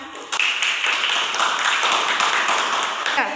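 An audience claps during a sixth-grade practical exam event at an Islamic primary school (MI Roudlotul Ulum). The applause starts abruptly, is bright and busy, and holds steady at close range for a few seconds before cutting off.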